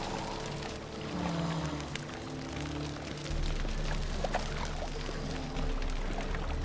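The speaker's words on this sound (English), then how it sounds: "Rain, I like rain." Steady rainfall in the Witcher 3 video game, a soft continuous wash of pattering drops heard at low level with faint low rumble and scattered ambient game sounds, no talking.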